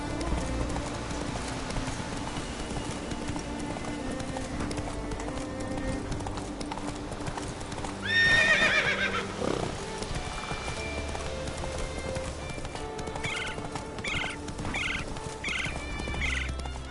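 Roach the horse in The Witcher, steady clip-clopping hooves throughout with a loud neigh partway through and a few whinny-like calls near the end.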